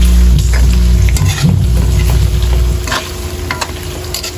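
Hot oil sizzles and spits continuously while adobong yobab fries in a pan, a loud, steady crackle with sharp pops and splatters scattered throughout, no voices.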